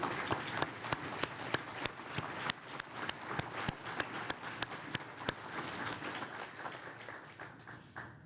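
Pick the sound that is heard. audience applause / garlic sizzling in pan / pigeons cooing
audience applause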